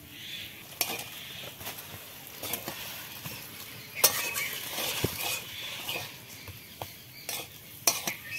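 Spiced potato filling for aloo chop is worked in a pan with a spoon, making soft scraping and irregular metallic clinks over a faint background hiss.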